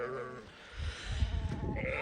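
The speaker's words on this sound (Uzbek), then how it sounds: "Mana bizning qo'ylarimiz, mana chorvamiz" Sheep bleat on a farm in a few drawn-out calls, fairly close, with low rumbling handling noise and movement of the flock underneath.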